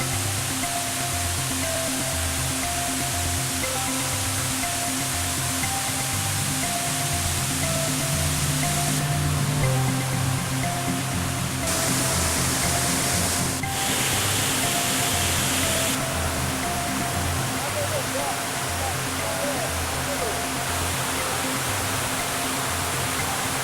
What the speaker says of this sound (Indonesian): Air terjun dengan bentuk memanjang menyimpan sisi eksotisnya.